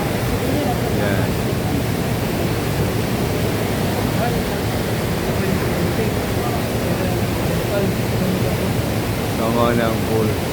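Maria Cristina Falls waterfall: a dense, steady roar of rushing water fills the whole span, loud and unbroken.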